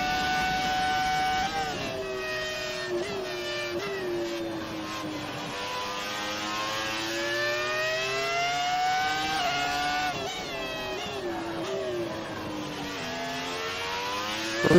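A Formula 1 race car engine in the racing game F1 2018 screams steadily at high revs, its pitch sweeping up through the gears and dipping on shifts, loud and continuous throughout with no talking.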